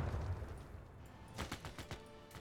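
A volley of artillery from Civilization VI, a burst of several rapid booming reports in quick succession after a low rumble, moderately quiet.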